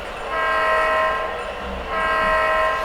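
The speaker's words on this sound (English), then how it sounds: "We're going to blow our air horn" A loud, steady locomotive air horn sounds in a sustained multi-tone chord, dipping briefly in the middle before blaring again, close by with no talk.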